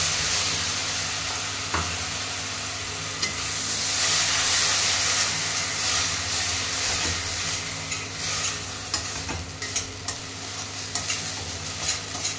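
Onion, garlic paste and tomato paste sizzle in a pan while being stirred, a close, continuous frying hiss broken by scraping stir strokes, with no talking.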